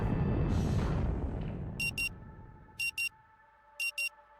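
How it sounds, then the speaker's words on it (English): Alarm in an RPG game demo rings in three short repeated double bursts of bright electronic beeps, evenly spaced after a fading low rumble, with a steady faint hum underneath. "The frenetic sound of the alarm nudges you back to the present."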